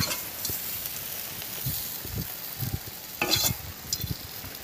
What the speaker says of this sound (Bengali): কাঁকরোল ভাজা হয়ে গেছে, নামিয়ে নেব এবারে